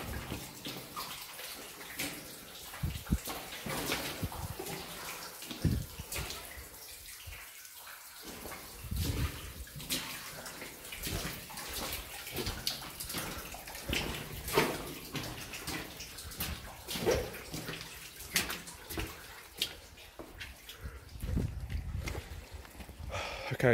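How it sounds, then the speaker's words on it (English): Water rushing through an old mine tunnel at Goldscope Mine, a continuous uneven wash of flowing water with gusty, rumbling surges, fairly close. "it is like a river in there"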